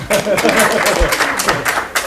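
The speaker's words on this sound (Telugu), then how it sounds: "క్లాప్స్ గట్టిగా" A group of young children claps loudly and together, a dense rapid patter of hand claps lasting a couple of seconds with laughter and voices mixed in.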